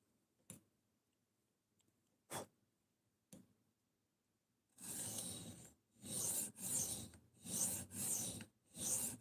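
A knife blade drawn across a 400 grit sharpening stone: a few sharp isolated clicks, then a series of rhythmic raspy grinding strokes, each about a second long, close and clear.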